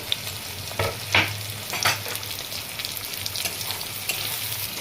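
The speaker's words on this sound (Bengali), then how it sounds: "কাঁচা লঙ্কা কুচিগুলো দিয়ে দিচ্ছি" Chopped green chillies are stirred into onions frying in oil in a pan for chicken keema. A few scraping stirs stand out over a softer, continuous sizzle.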